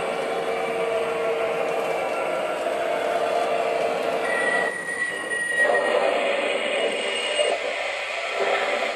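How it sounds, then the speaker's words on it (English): MTH model train engine's onboard sound system playing its train wreck effect: sustained metallic screeching and squealing of rail wheels with a high whistling tone midway, steady and moderately loud, fading at the end. "I've never played the train wreck sounds on this engine yet."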